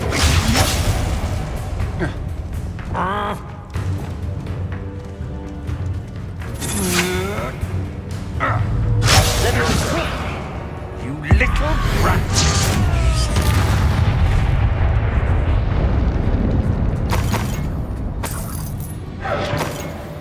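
Spell blasts and booming impacts from combat in Hogwarts Legacy, with whooshes and crashes bursting repeatedly over game music while a character shouts incantations.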